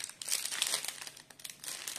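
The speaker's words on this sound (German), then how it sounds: "Mal schauen, wo die Tüte wieder aufgeht." A plastic bag from a diamond painting kit crinkles and rustles as it is handled and opened, close up, in irregular bursts with no talk.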